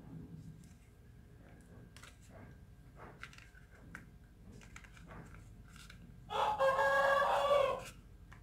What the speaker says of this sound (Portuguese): vocês estão escutando meu galo cantando, né?